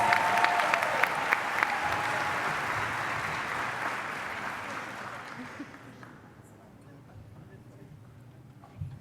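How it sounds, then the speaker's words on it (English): An awards-night crowd cheers and applauds finalists as they pose for photos, loud and sustained at first, tapering off around six seconds, with faint voices beneath. "Huge round of applause and cheers for them as they take their photos"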